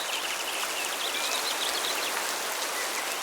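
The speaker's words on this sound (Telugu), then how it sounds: "అకస్మాత్తుగా భారీ వర్షం మొదలవుతుంది." Heavy rain pours down steadily, a dense continuous hiss of drops with no pauses, loud and close throughout.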